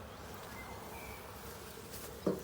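Honey bees buzz steadily around a beehive, a soft continuous hum close by with no talking.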